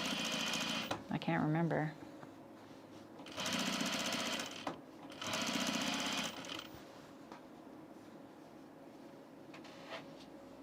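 A sewing machine sews the vent of an unlined blazer in two short, loud bursts of fast needle rattle separated by a brief pause, with a person talking briefly before and a quieter room afterward.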